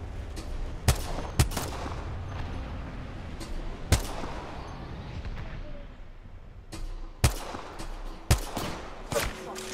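Sharp sniper rifle shots crack in a video game firefight, about seven or eight loud reports spaced irregularly over a constant rumbling background.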